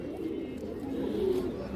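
Pigeons coo in a low, continuous murmur from close range, steady and fairly quiet, with no clear talk over it.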